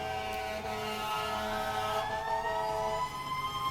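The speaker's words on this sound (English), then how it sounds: "I love the ambulances." Several emergency sirens wail outside, sustained rising and falling tones layered over a low vehicle rumble, fairly distant and steady with no talking.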